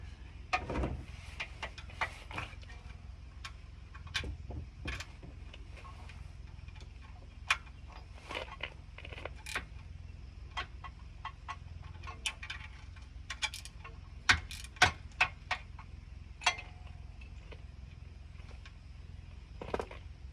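A wrench works on a 17 millimeter oil drain plug of a 2011 Honda Odyssey, giving irregular sharp metallic clicks and ticks at close range, spaced unevenly over quiet background, with no voices.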